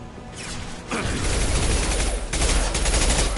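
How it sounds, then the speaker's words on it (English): Concussive shot fired in a video game, a sharp blast opening a dense burst of heavy, booming gunfire that swells twice into louder crashing volleys and rumbles on without pause. "Firing concussive shot."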